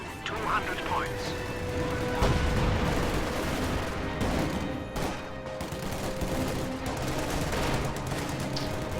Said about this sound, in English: Paratroopers firing.